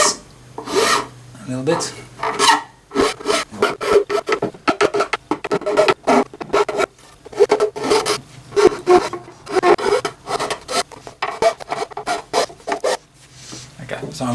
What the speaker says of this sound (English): Now I'm just filing the ends of the frets